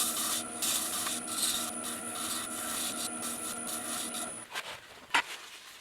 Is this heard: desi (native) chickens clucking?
no